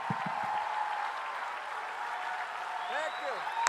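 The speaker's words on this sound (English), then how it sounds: "Give it up for Clay Clark" An audience applauds at a live comedy show with a Trump impersonation act, producing steady sustained clapping throughout, with faint voices underneath.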